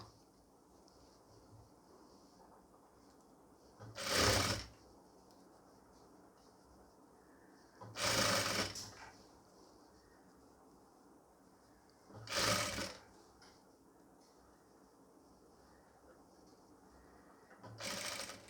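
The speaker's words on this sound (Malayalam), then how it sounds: "തയ്യൽ തുമ്പിട്ടിട്ട് നമുക്കൊന്ന് സ്റ്റിച്ച് ചെയ്ത് തുടങ്ങാം കേട്ടോ" A sewing machine stitches a pleated nightie in four short bursts of fast whirring, separated by quiet pauses with faint background hiss, each run lasting about a second.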